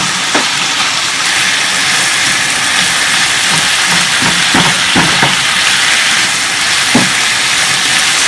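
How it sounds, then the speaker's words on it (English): Beef and asparagus sizzle loudly in a pan with sesame oil, a constant close frying hiss broken by a series of soft scraping knocks as the pieces are stirred around. "I'm going to stir that around, make sure that all of it's coated with a little bit of sesame oil"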